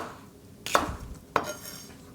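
Two sharp knife chops on celery against a cutting board, spaced about half a second apart, close and crisp in an otherwise quiet kitchen.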